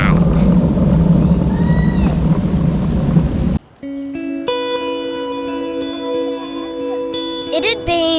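Steady heavy rain pours loudly on a rainy day at Singapore's Skyline Luge, then cuts off abruptly partway through, replaced by sustained tonal sounds.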